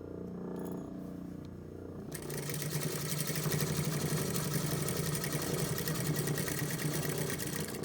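A sewing machine stitches a pleat into a shirt, starting after a short quiet moment and then running in a steady, fast mechanical whir until the end, close and fairly soft.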